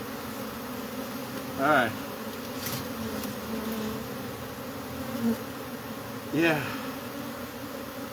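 Angry bees from a hive inside a cable box buzz in a continuous low drone, with a few louder passes close by and someone speaking briefly.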